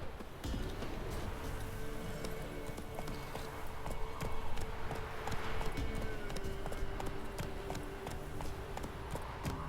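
Horse hooves galloping in a steady clip-clop rhythm in the Witcher 3 game, continuous and close, with game ambience underneath.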